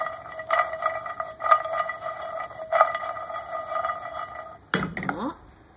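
A utensil scrapes and clinks around a pan while beaten eggs are stirred, repeated close scraping strokes, ending with a louder clatter.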